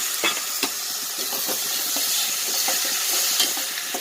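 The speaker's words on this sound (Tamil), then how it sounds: "தக்காளி வெங்காயம் நல்லா சுருள வதங்கிடணும்" Onions and tomatoes sautéing in sesame oil for a fenugreek kuzhambu sizzle loudly and close up, with repeated spatula scrapes and taps against the pan.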